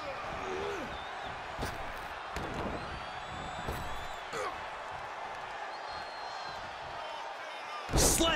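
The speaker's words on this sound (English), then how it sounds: "Slammed with a purpose." A wrestler is slammed onto the mat during a Wes Lee vs Damon Kemp match; several dull thuds land under excited commentary and crowd noise, capped by one loud, sharp slam near the end.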